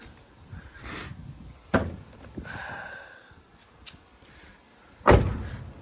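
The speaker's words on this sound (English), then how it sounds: "I'm happy these Escalade doors fit so well." Cadillac Escalade doors fitted to a project car shut with two solid slams a few seconds apart, the second louder and sharper, with quieter clicks and rustling between them.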